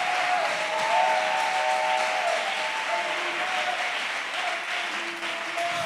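A church congregation bursts into sustained applause in acclaim during a French-language sermon, a dense, even clapping from a crowd that carries on steadily throughout.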